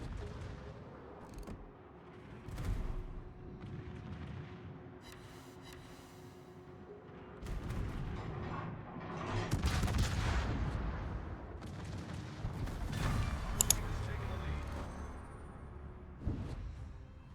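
Ship guns boom in a World of Warships naval battle, with repeated heavy blasts and rumbling impacts scattered over a continuous low background, some shots louder and closer than others.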